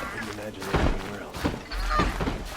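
Several geese honk in short bursts inside Horizon Zero Dawn, layered over a busy game soundscape, with some voice-like murmur mixed in.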